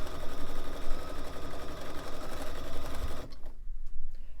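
A sewing machine stitches a Celtic quilt in a steady, close, continuous whir that cuts off abruptly near the end, leaving only faint room noise.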